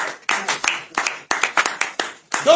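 A crowd at a French-speaking religious gathering claps and cheers loudly in several uneven bursts, with a few voices rising over the hand claps.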